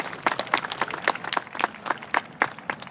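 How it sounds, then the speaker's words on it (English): Applause from a small audience at a World War II gun show, a few people clapping in sparse, uneven bursts with distinct individual claps, fairly close and without voices. "give him a round of applause"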